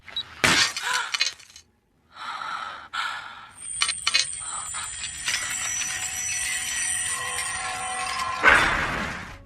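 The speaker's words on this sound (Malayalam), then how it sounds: "ക്രാക്ക് വീണ് ഗ്ലാസ് ചിതറി തെറിച്ച്" Car window glass shatters sharply, followed by a long tinkling scatter of falling shards and ringing debris, loud and close, with no voices.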